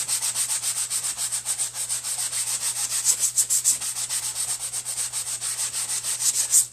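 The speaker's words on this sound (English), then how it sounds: "use your sanding block on it" Sanding block rubbed back and forth over a painted wooden sign, a steady rhythmic scratchy rasp of regular close strokes with no talk.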